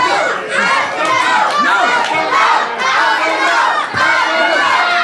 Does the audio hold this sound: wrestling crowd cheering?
yes